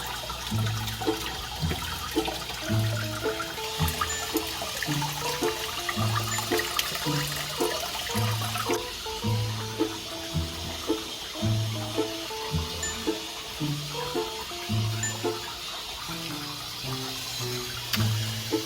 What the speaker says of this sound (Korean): 지금 물이 채워지고 있는데